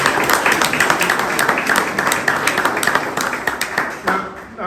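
A crowd at a plaque unveiling and celebration applauds, with close, crisp claps from many hands forming a lively, slightly uneven patter that fades toward the end.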